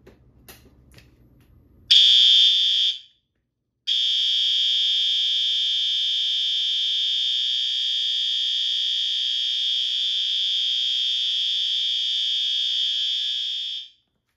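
An old L series fire alarm horn, a little raspy, sounds alone after a quiet start, with a short blast, a brief gap, then a loud sustained tone that holds for about ten seconds before cutting off.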